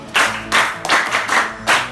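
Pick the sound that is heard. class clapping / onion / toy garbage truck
class clapping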